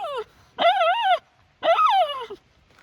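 A black Labrador hunting dog whimpers in three high, wavering whines, close and fairly loud, each lasting under a second with brief silences between them.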